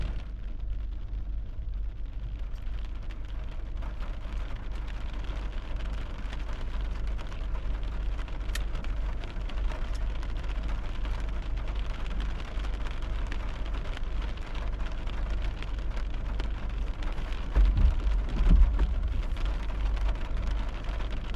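Steady rain falls during an August thunderstorm, a soft continuous hiss that holds at an even level, with a brief low swell near the end.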